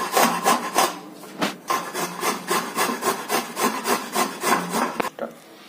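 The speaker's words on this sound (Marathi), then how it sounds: "हे आपण एक गाजर किसून घेत आहोत." A carrot is rubbed against a hand grater in rapid, even rasping strokes, about a dozen scrapes in steady rhythm, close and clear, with no talking, while a carrot-modak sweet is being prepared.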